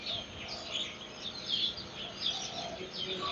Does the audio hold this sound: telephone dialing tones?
no